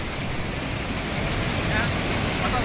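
A waterfall in Karen country, Myanmar, roars as a dense, unbroken rush of falling water, steady and fairly loud with no variation.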